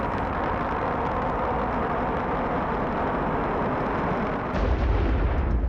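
A rocket lifting off from a launch pad sends out a continuous, dense roar that is loud and steady throughout and swells into a heavier low rumble near the end, with no voices over it.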